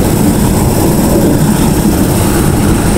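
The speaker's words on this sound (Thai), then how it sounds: "ขึ้นรถไฟแล้วครับผม" A passenger train ride in the rain, filling the space with a loud, constant low rumble and rattle of the carriage and engine, close and unbroken, with no speech.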